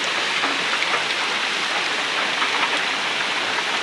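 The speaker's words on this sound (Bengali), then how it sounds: "আলহামদুলিল্লাহ রহমতের বৃষ্টি শুরু হয়ে গেল।" Light rain falls steadily on roads in Kachua, Chandpur, a close, even wash of fine patter with no voices.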